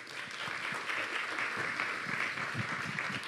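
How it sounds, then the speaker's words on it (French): An audience breaks into steady applause at a French talk on artificial intelligence, dense clapping from many hands filling the room evenly for a few seconds with no voices over it. "Et sous vos applaudissements"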